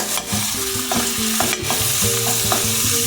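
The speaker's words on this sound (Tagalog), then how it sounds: "Sunod po natin yung chicken natin na prinito guys. Ayan. Aywa. Haluin lang po natin." Fried chicken being stirred in a pan, with repeated scraping strokes in a steady rhythm over a continuous frying sizzle, close up and with no one speaking.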